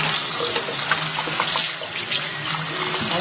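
Cold tap water runs steadily over jumbo shrimp being rinsed clean in a kitchen sink, a continuous close splashing hiss for a few seconds with no talking.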